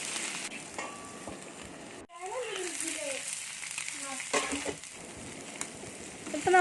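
Spinach for samosa filling sizzles and is stirred in a pan, with soft scraping and frying hiss. Someone talks over the cooking.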